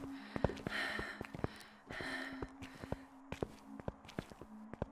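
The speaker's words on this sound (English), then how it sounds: "I think I heard her footsteps get faster" Ghost footsteps in the Phasmophobia horror game, a rapid series of sharp thuds that speed up, fairly close and loud against a steady low hum and faint breathy noise.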